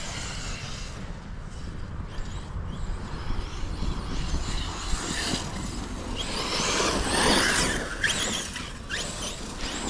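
A Sledge RC car races on pavement, its tires gripping and sliding with squeals over a continuous high motor whine that swells loudest toward the end.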